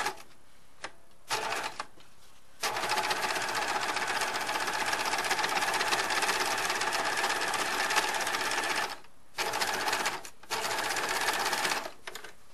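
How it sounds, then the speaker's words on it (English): Sewing machine edge stitching along the fold of a chimney placket: several bursts of rapid, close mechanical whirring, one long continuous run in the middle, separated by short pauses. "Edge stitch along the right side of your fold"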